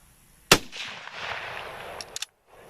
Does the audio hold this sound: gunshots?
yes